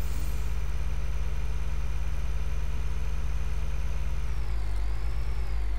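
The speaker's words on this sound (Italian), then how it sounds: "Adesso come vedete il trattore si affatica sempre di più" Tractor engine in Farming Simulator 2013 straining under load, a loud steady low drone with a high whine that dips in pitch near the end, with no voices.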